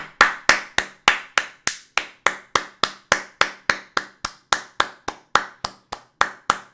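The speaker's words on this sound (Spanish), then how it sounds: "Un aplauso." Sharp, evenly spaced single claps repeat about three times per second, close and dry, a steady rhythmic clapping rather than a crowd.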